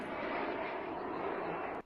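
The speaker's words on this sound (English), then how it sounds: "it does have that distinct jet sound to it" A jet-powered attack drone flies past over the Belgorod region, its steady jet-engine roar sustained and fairly loud before cutting off abruptly near the end.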